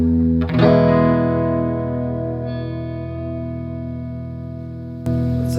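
Electric guitar played through reverb and compressor effects: a single sustained chord rings out and slowly decays in a wash of reverb, followed by a fresh strummed attack near the end.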